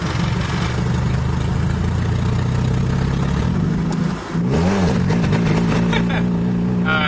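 A Honda Miata engine with open headers runs with a loud, raspy, droning idle, then gives a brief rev that rises and falls around the midpoint before settling back into the rough rumble.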